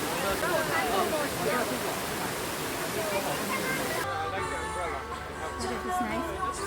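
A waterfall on a hiking trail in Yushan, China, rushing as a loud, steady broadband roar that cuts off abruptly partway through, leaving quieter background sounds with faint voices.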